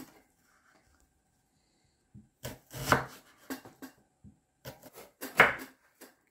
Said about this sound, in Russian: Я нарезаю лук.